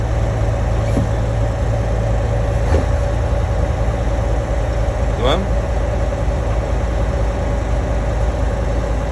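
A car engine idles with a steady, even hum during a hands-on lesson on programming the clutch and throttle, with voices faintly in the background.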